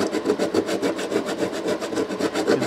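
Guitar frets on a Les Paul-style guitar are sanded with 150 grit sandpaper in quick, rhythmic back-and-forth strokes. The raspy rubbing sounds close and steady, with no talking.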